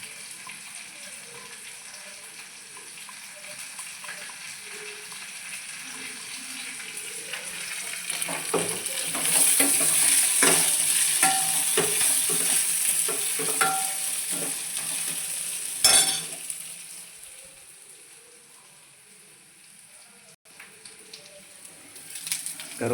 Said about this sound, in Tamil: கருவேப்பிலை, இஞ்சி சேர்த்தாச்சு. ஒரு நிமிஷம் நல்லா வதக்கி விட்டோம்னா நல்லா வந்துடும்.